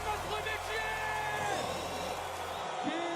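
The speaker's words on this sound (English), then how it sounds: "Just let the crowd do its work for this one." A big crowd roars and cheers at the men's BMX park final at FISE Montpellier. The wash of noise is loud and steady, with whoops and yells rising out of it and a commentator's voice mixed in.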